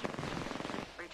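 Rapid automatic gunfire in the video game Apex Legends, a quick burst of evenly spaced shots lasting about a second, loud and close.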